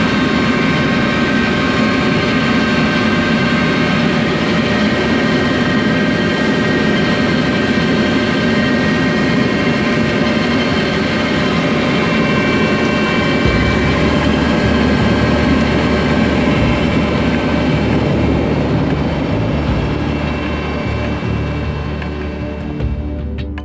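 Helicopter engines keep running during a stop on a Himalayan flight, a loud, steady turbine whine over a low rotor drone that deepens partway through and holds on to the end.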